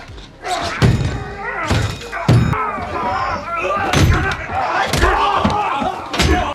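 Fight blows in a film scene land as heavy thuds and smacks, several hits spaced through the stretch amid shouting and grunting voices.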